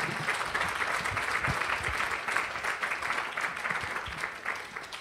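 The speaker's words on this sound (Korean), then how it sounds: "우리 박수로 우리 위원들을 한번 맞이하도록 하겠습니다" A church congregation applauds to welcome committee members at a talk concert, steady moderate clapping that continues evenly throughout without speech.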